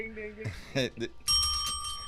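A bell rings bright and sustained near the end, following a stretch of voice and low tones, fairly close and clear.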